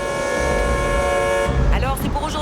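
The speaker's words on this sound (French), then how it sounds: "Et puis là, bah Richie se fait klaxonner." A car horn blares in a film street scene, blown by a woman driving a Ford Country: a sustained, loud honk for about a second and a half, followed by traffic noise and a brief voice.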